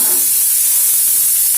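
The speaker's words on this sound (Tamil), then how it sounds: "இப்போ இந்த வெங்காயம் நல்லா வதங்கட்டும்" Onions sautéing in a pan for a village-style Tamil kalani puli saaru, a steady close hiss of frying with no pauses.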